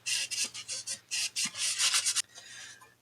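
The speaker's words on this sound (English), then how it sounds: "I am just going to stain the inside because we are going to paint the outside." Wax stain being rubbed onto the inside of a wooden frame, a close series of short, dry rasping strokes in a steady rhythm that stops near the end, followed by quiet.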